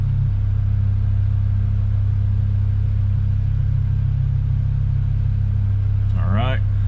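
BMW M5 with S85 engine, which has a faulty Vanos solenoid valve, producing a steady loud low rumble that holds throughout, and a brief voice comes in near the end.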